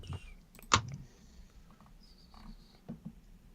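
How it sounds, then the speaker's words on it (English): A computer mouse is clicked hard right beside a microphone, one sharp loud click standing out near the start, followed by a few softer taps and faint rustling in a quiet room. "Damn, you're slamming that mouse."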